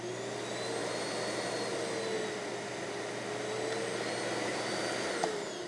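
A vacuum cleaner motor runs steadily throughout after being switched on, a continuous mid-level whine and rushing drone with a faint high tone on top, no voices.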